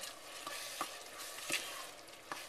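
Vegetables for a marinara sauce soften in a pan, giving a faint, steady sizzle with a few soft scrapes and clicks of stirring and no talk.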